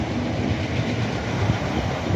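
A Class 455 train runs along the rails in London with a steady, loud rumble and faint clickety-clack, heard from close by with no voices.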